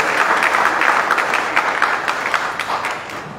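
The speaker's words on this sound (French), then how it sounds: "je vous demande d'applaudir s'il vous plaît" A crowd at a media fair in Mali applauds: dense, continuous clapping that holds at full strength for a few seconds, then thins slightly toward the end.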